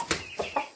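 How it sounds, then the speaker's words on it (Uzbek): A rooster brought from the bazaar gives a few short clucking calls, four quick bursts spaced irregularly, fairly close and moderately loud with no talk. "Mana hali Yazevon bozordan kelgan xo'roz."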